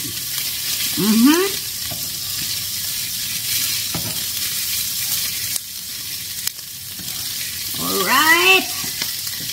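Beef and shrimp with onions frying in a small pan, a constant loud sizzle with scraping stirs and a few knocks, while a voice comes in briefly between the stirring.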